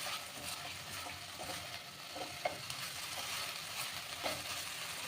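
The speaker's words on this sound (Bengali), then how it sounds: "সব একসাথে কষিয়ে নেব।" A spiced masala gravy with paneer fries in a pan with a steady hiss and sizzle, while a utensil stirs and scrapes intermittently, with occasional soft clinks.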